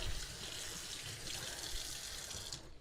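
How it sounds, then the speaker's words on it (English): An automatic kitchen sink faucet runs water in a continuous steady hiss and splash, close and moderately quiet, cutting off near the end with no one talking. "Sorry about my sink, it's automatic."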